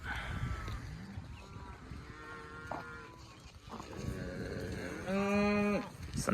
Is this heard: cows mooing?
yes